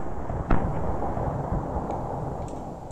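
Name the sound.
FN F2000 airsoft gun (WOG) firing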